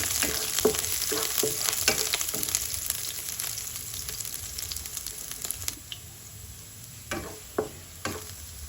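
Garlic sautés in a hot pan with a steady, close sizzle, broken by several sharp scraping clicks of stirring, then the sizzle quiets near the end.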